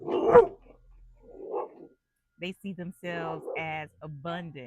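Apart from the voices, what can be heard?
dog barking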